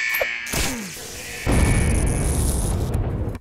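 A grenade goes off in the Henry Stickmin video game: a cartoonish whistle and buzzing lead-in, then a sudden loud boom that rumbles on for about two seconds, with no speech.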